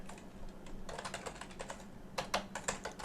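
Someone types on a computer keyboard while coding, with bursts of quick, close key clicks, some sharper and louder taps near the end, over a quiet background hum.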